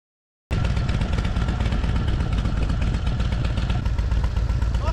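After a brief silence, a motorcycle engine starts up loud and close, then runs with a continuous rough rumble and throaty clatter.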